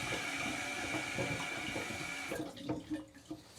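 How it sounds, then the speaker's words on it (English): Water runs steadily into a leaky toilet after a flush, a loud close hiss and gurgle that suddenly thins out toward the end, leaving softer drips and trickles. "We want the water to stop so I can touch it."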